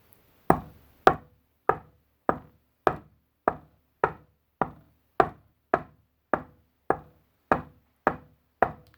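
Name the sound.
imitated constant knocking on a door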